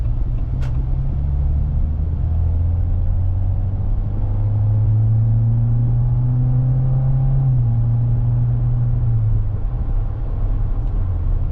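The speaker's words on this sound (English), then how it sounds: "And now I have this nice sounding Flowmaster Super 10s." A turbocharged truck engine running through Flowmaster Super 10 mufflers gives a steady, deep exhaust drone with a low rumble that swells slightly mid-clip. It is close and continuous, with no talking.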